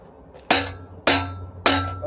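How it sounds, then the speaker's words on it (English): A hammer strikes a hot steel Bowie knife blade clamped in a vise during forging, three loud ringing metallic blows about half a second apart, each with a bright clang and short decay, no talk. "I'm going to throw it in the vise and try to pound that in."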